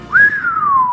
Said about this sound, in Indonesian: Dikeluarkan suara siulan keras